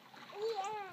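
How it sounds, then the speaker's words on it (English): Brief splash of water as a small girl kicks her legs while swimming in Porter Lake, close and light, with a voice sounding over it. "Keep your head up and kick those legs."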